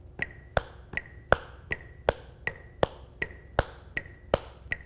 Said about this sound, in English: Now I want you to clap in between your foot taps.